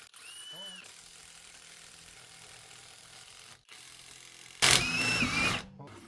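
A power tool used to remove the wheels of a 2500 2WD Sprinter van gives one loud, roughly one-second burst near the end, after a stretch of quieter mechanical clicking and workshop hum.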